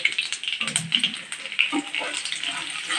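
Mustard seeds, chana dal, urad dal and dried red chilies frying in hot oil, a steady close crackling sizzle with scattered sharp pops from start to finish.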